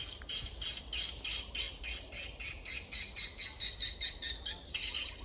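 Swiftlets calling while feeding around a swiftlet house, a dense stream of rapid high chirps and squawks pulsing repeatedly, moderately distant, with no talk.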